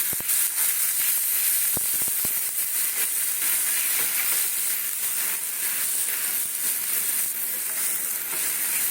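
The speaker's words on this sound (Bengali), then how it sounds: "এই দেখো এটা ঘিয়ের মধ্যে ভেজে নিলাম" Mung lentil filling fries in ghee with a loud, continuous close hiss. A few sharp spits and crackles come early, then the sizzle settles into an even wash with no talking.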